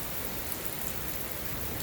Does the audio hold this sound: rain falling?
yes